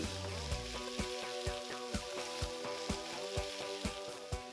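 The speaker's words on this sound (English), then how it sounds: "We're going to now add our beef strips now, and we're going to fry these off until they're nice and brown" Beef strips sizzle and fry in hot oil in a pan, a steady bright crackle with regular soft knocks throughout, close and alone with no talking.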